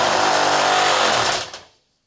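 A Milwaukee electric torque wrench set to its 100 foot-pound maximum runs a bolt down in a steady, loud motorized whir that holds for about a second and a half, then winds down and stops abruptly.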